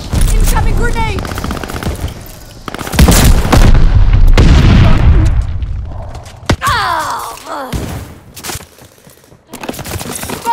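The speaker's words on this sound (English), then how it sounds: "Teammate called a bombing run" A bombing run in Call of Duty: Vanguard team deathmatch, with heavy booming explosions rolling together amid rapid bursts of gunfire, loud and dense, easing into scattered shots and a whistling descent near the end.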